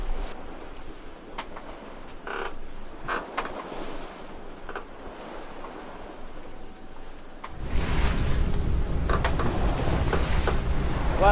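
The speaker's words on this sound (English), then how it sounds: "as you can hear, the engine is on." A sailing boat's engine runs on a sunny passage through the Irish Sea toward Stranraer, a low steady drone under wind and water noise that swells into a louder, broadband rush partway through.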